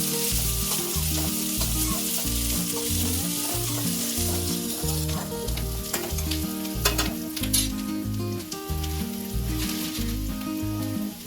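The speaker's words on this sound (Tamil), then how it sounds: "வெங்காயம் நல்லா வதங்கட்டும்." Chopped onion and green chillies sauté in a pan for crab gravy, making a loud, continuous close sizzle with stirring, while music plays over it throughout.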